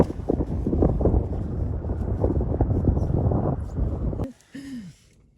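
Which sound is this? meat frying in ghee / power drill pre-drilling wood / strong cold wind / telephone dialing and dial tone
strong cold wind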